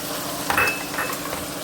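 Steamed instant vatidal khaman tipped into hot tempering in a pan and mixed, giving a soft low sizzle with light scraping and a few utensil clinks against the pan, fairly close.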